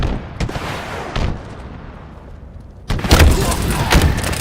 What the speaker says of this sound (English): Chaotic round of rockets.